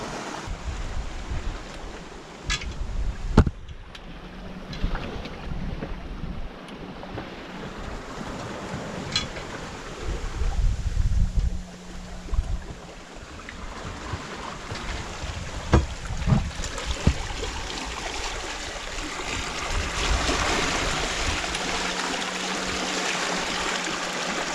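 A sailboat under way on the open ocean during a single-handed transatlantic passage at about 5.5 knots, with steady rushing water along the hull, sloshing waves and gusting wind noise, no voices.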